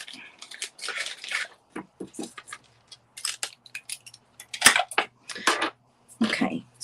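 Scissors snipping through paper in short irregular bursts, close and crisp, with pauses between cuts and faint background rustle.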